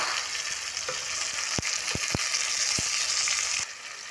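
Tomatoes tipped into a hot pan set off a steady, close sizzle and frying hiss, with a few sharp clinks of a utensil striking the pan partway through; the hiss drops off abruptly near the end.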